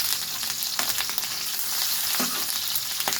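Food frying and toasting in a hot pan, a continuous dense sizzle with occasional scraping stirs and clatters, steady and close, with no talking.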